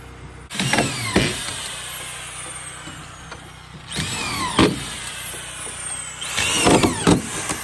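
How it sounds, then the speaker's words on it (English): A quick drive screw gun drives screws into deck boards on a log home deck, three separate bursts of loud whirring with sharp rising whines, separated by quieter pauses. "I gotta show you that quick drive gun real quick"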